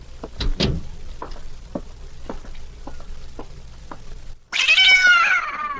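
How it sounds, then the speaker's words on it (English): A cat meows loudly and plaintively near the end of an old radio drama scene, following a series of faint knocks and clicks, with no talk over it. "You like that cat, Miss Diane."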